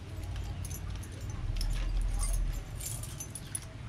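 A bunch of small keys jangles in a mechanic's workshop, a steady metallic clinking that swells in the middle and stays close and moderately loud throughout.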